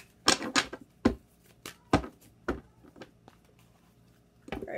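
Close, crisp flicks and riffles of tarot cards being shuffled in irregular bursts, with a short quiet gap before more shuffling.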